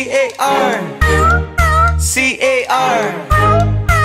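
Sung meows from a cartoon cat in a cheerful children's nursery song, several drawn-out meow-like vocal calls riding over bouncy music with a strong bass beat; a singing voice may be imitating the cat.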